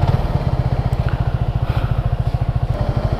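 Motorcycle engine started and running at a fast, even, thumping idle, loud and close, with no talk.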